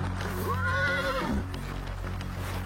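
A horse lets out a loud, wavering whinny that rises and then falls away, followed by quieter background sounds.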